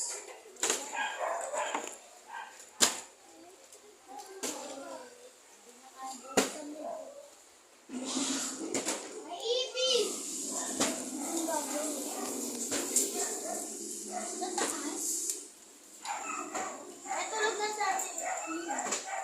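Dog barking and yipping in short bursts, with whimpers between, over people talking nearby indoors.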